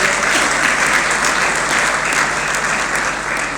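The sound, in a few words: audience applause at awards ceremony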